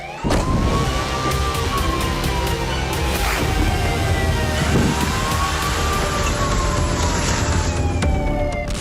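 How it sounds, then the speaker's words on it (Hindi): Wailing air raid sirens rise and fall continuously over a steady wash of noise in a Russian city during the war with Ukraine, loud and sustained throughout. "शहरों में सायरन बज रहे हैं।"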